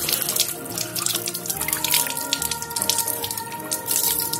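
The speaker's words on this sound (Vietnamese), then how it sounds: "Rồi, rửa qua bằng nước." A silicone phone case is rinsed under a running kitchen tap, with a steady stream of water splashing and trickling close by and no talking.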